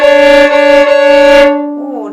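A violin sounds a sustained, slightly sour bowed note played out of tune with the second finger out of place, loud and close, then fading with a brief wavering tail.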